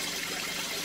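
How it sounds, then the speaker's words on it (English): Small aquarium waterfall running into a fish tank with baby angelfish: a steady, close, broadband rush of splashing water with no talking. "Waterfall's going well in Jackson's tank"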